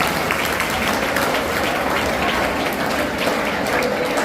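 Steady, dense applause from a school audience at a farewell function, many hands clapping continuously and loudly throughout with no break, a full room cheering one honoured teacher.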